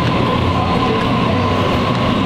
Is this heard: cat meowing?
no